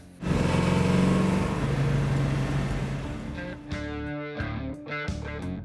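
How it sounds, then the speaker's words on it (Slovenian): A Ford Mustang engine revs hard and loud, a sustained roar that settles into a steadier drone before easing off with gear-change dips near the end, heard alone without talk. "Tem ne rabi dodajati zvočnega efekta za motor."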